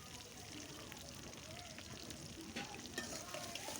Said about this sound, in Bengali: আমি এখন তেলের ভিতরে পেঁয়াজ কুচি এবং মরিচ দিয়ে দিয়েছি।